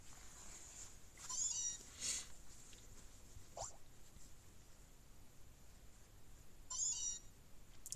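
Meowth's cry in Pokémon Ultra Moon, a few short synthesized cat-like calls spread over a quiet game background, with no speech.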